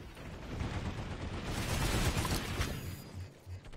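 Continuous gunfire in a large Planetside 2 battle: a dense, roaring wash of shots and distant blasts with no clear gaps, fading slightly at the end.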